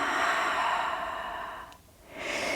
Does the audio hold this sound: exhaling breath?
yes